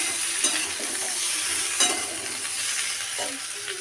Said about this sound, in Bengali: লবণ দিয়ে আবারও এটা নাড়াচাড়া করে ভেজে নেব